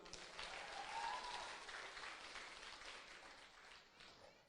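Wedding guests applauding, a faint, sustained patter of many hands that swells early and slowly tapers off.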